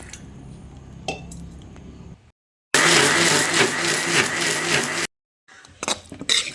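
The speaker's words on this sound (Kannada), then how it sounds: "ಎಲ್ಲವನ್ನು ಒಟ್ಟಿಗೆ ಗ್ರೈಂಡ್ ಮಾಡ್ತಾ ಇದ್ದೇನೆ." A kitchen mixer grinder whirs loudly in one sustained burst, grinding fried cashews and a piece of ginger for a chicken green masala, with quieter clinks and kitchen clatter before and after.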